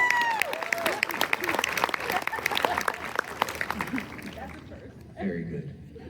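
Audience applause at a fan convention Q&A panel, a vampire fan weekend in Orlando: a dense burst of clapping with scattered cheers and laughter that tapers off after about four seconds, leaving faint murmur and a voice speaking.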